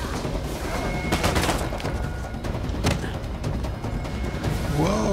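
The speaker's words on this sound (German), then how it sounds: "jetzt krieg ich hier Schüsse in den Rücken" Bursts of gunfire and thuds from the video game Uncharted 4 rattle over a busy background of game noise and music.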